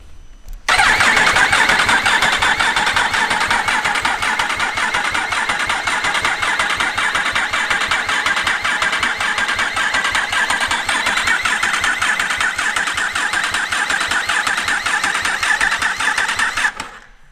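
A Yamaha R1 motorcycle's starter motor cranks the engine steadily for a long stretch while the oil cooler fills, with a rapid rhythmic whirring that holds loud and even before cutting off, with no voices.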